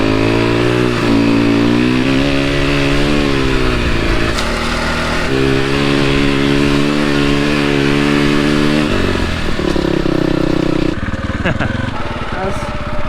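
Dirt bike engines rev loudly and close while riding through snow, the pitch climbing and dropping through gear changes, with a brief voice under the engine noise.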